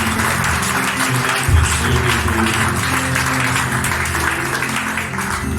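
A church congregation applauding and cheering together at a worship service on a fasting day, a dense steady wash of clapping with a low crowd murmur throughout, fairly loud and close.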